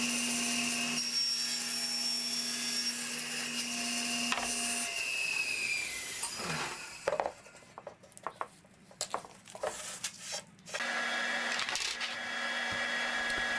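A saw trims a hair off the end of a taped rough-milled walnut board, cutting across the grain; a steady whine gives way to a few seconds of short rasping strokes and knocks, then the whine resumes.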